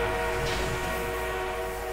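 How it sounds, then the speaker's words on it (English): Enemy armored train approaching in the video game Battlefield 1, a steady rumbling rail drone with sustained tonal hum, continuous and fairly loud throughout. "An enemy armored train is on route."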